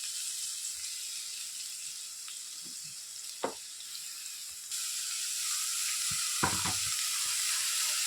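Chopped onions and curry leaves sauté in a pan while chicken cutlets are being made, giving a steady, even sizzle with a few soft spoon clinks and scrapes against the pan.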